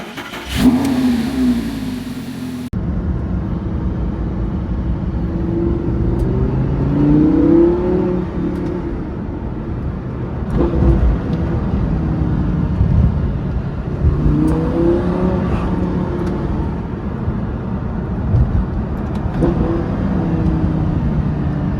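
A 2013 Lamborghini Gallardo LP550-2 engine cranks with a short whir, catches, and settles into a loud, steady idle. Several throttle blips swell and fall back across the run, and no one speaks.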